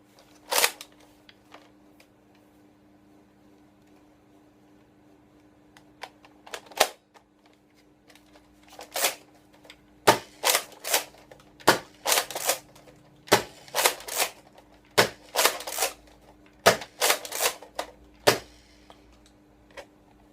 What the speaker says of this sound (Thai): เดี๋ยวผมจะยิงแบบที่ 2 ให้ดูกันนะครับผม